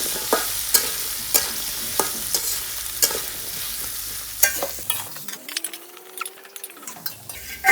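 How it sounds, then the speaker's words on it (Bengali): Onions frying with spices in a pan for tengra fish kalia, a steady sizzle broken by repeated stirring scrapes, close and fairly quiet. "মশলা দিয়ে কষাবো।"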